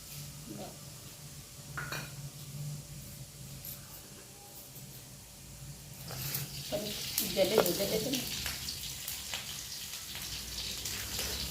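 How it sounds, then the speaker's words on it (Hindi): Arbi (taro) curry sizzles faintly in a pan while a spoon scrapes and stirs, metal clinks sounding now and then, and the frying grows louder and busier partway through. "तो अभी अरबी की सब्ज़ी बन रही है।"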